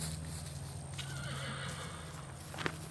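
A Mustang horse gives a loud, drawn-out whinny close by, with soft hoof thuds and movement underneath, a brief sharp sound near the end.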